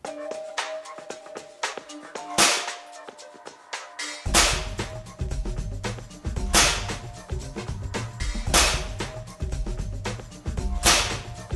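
An Evanix Conquest semi-auto PCP air rifle fires 28.3 grain Yunjin pellets in a string of sharp, loud cracks, repeated at irregular intervals over a steady background hum, with some shots coming in quick succession.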